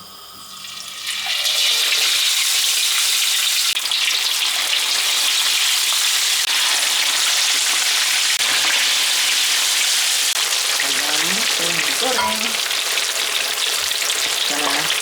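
Chicken dropped into hot oil in a wok at 170 degrees bursts into a loud, dense, continuous sizzle that starts abruptly and holds for the rest of the clip, with faint background voices near the end.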